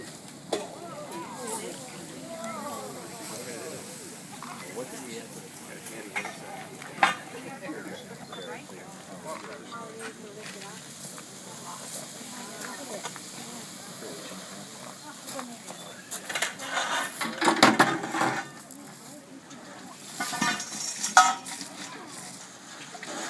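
Outdoor fish boil at Pelletier's Restaurant in Fish Creek, Door County, Wisconsin, with the kettle boiling over as the fire flares beneath it. A brief loud rushing surge rises over steady crowd chatter and clinking near the end.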